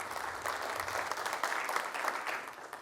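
Fairly quiet audience applause at a numismatic society lecture in Buenos Aires, a brief, even patter of many hands clapping from a seated crowd.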